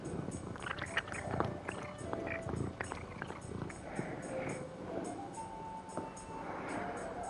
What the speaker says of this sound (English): I don't know if you can hear my cat purring.